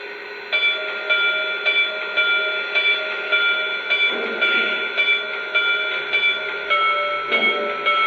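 A Lionel Legacy Conrail T1 model locomotive rings its electronic bell, a steady metallic tolling that repeats at an even pace for several seconds, close and clear, with no voices.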